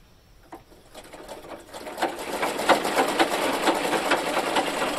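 A sewing machine runs with a rapid, rhythmic mechanical stitching that starts faintly and builds into a steady, close clatter, heard alone without voices.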